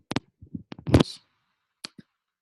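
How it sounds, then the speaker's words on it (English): Sharp clicks come through an online call, a handful of dry taps in an irregular cluster and then a couple more after a pause, with no voice underneath. "I hear you clicking, but I can't hear your voice."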